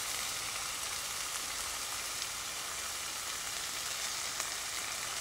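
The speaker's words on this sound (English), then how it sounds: "Let's go ahead and get this steak on here. Again, I want to pan sear it." Steak searing in a pan on a Redcamp wood stove at a bushcraft camp, a dense, even hiss that holds steady and close throughout with barely any variation.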